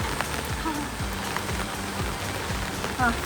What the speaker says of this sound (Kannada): ಇಲ್ಲಿಂದ ಮಳೆ ಬರ್ತದೆ,